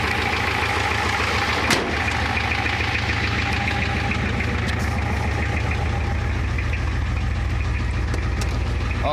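A 1985 Ford F350 with a 6.9 IDI diesel idles with a massive hole in one exhaust pipe, giving a loud, steady rhythmic clatter and knock with a deep throbbing rumble, close by, plus one brief sharp tick early on.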